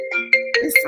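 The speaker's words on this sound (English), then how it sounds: "sorry, that's my phone." A mobile phone ringtone plays a short, bright electronic melody of a few repeated tonal notes, close and clear, with no talking over it.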